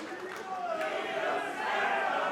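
Wrestling event crowd cheering and shouting, a swelling mass of voices that grows louder toward the end, with a commentator talking over it.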